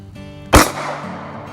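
One sharp, loud gunshot from a small pocket pistol cracks at a shooting range and leaves a short decaying echo, heard alone against quiet background hum.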